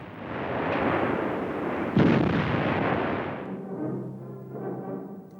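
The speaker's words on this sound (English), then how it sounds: "The 88 was also frequently employed in the conventional artillery role." A German 88 gun fires in the artillery role during WWII: one heavy, booming discharge close by, with a rumbling roll before it and a decaying echo after, no voices.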